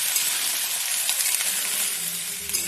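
Large-cut onion, tomato, capsicum and spring onion fry in a pan for a spicy veg Manchurian, giving a bright, dense sizzle with faint clinks of stirring, close and steady throughout, without voices.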